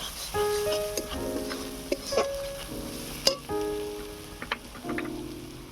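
Turmeric powder is stirred into hot oil with fried onion, giving a steady close sizzle broken by a few scraping stirs of a spoon against the pan, with a faint tonal hum underneath.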